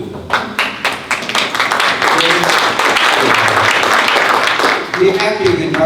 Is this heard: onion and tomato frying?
no